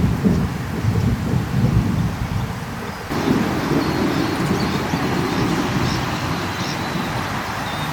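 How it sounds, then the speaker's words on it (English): Almost constant rolling thunder from a storm over Lake Illawarra, New South Wales, a loud, sustained low rumble with swelling surges and a fresh burst at about three seconds, no voices. "Almost constant thunder."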